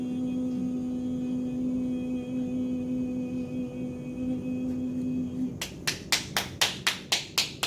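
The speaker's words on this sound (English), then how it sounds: "Clapping's a dispersal of energy." Sharp, evenly spaced hand claps, about eight in quick succession, during an energy healing session, coming in after several seconds of low steady hum and quiet room tone.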